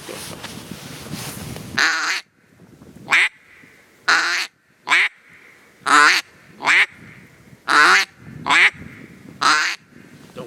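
Two people alternate on handheld duck calls, blowing back and forth in short loud quacking bursts of a few notes each, about ten in all, close up with quiet gaps between.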